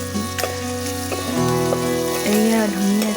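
Ingredients fry in oil while being stirred, a close sizzle under a strong tonal hum with a few sharp scraping clicks, and no one talking.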